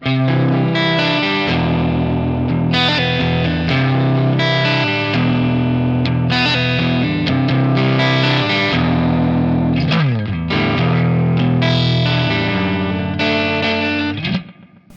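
Strummed electric guitar chords in a slightly overdriven pushed clean tone from a NUX Masamune compressor and boost pedal, ringing continuously with effects, loud and close, fading out at the end.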